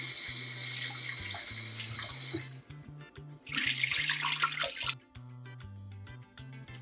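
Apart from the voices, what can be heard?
tap water running while washing rice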